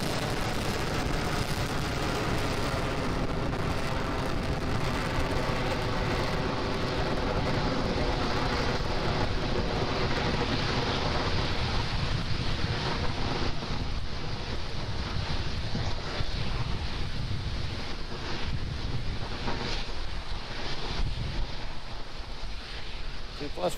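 Roaring, continuous broadband rumble from SpaceX Falcon 9 Merlin 1D rocket engines shortly after liftoff on the ANASIS-II satellite launch, steady and loud throughout with wind-buffeted microphone noise.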